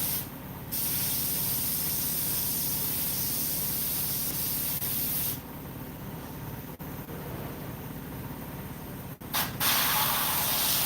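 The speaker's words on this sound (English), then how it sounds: "to go in with the airbrush and hit some of these spots" An airbrush loaded with black paint sprays onto a mask in a steady, close hiss, cutting out briefly and resuming in long continuous passes.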